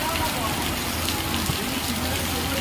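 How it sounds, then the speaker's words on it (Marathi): Heavy unseasonal rain with hail pours down in Mahagaon. It makes a loud, dense, unbroken roar of falling water that holds steady throughout. "महागाव येथे जोरात पाऊस चालू, धुमाकूळ पाऊस चालू।"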